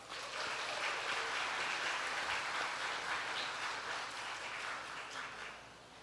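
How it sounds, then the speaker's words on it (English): Steady applause from an audience at a Choctaw Nation princess pageant, honoring the family helpers of district princesses; a broad, even wash of clapping from a sizable crowd that holds for several seconds before tapering slightly at the end. "let's give you a round of applause"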